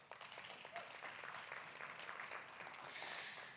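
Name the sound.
applause for panelists on stage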